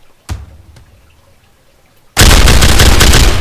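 The MK.4 automatic firing system: a single sharp shot, a short quiet pause, then a loud, continuous burst of rapid automatic gunfire that runs to the end.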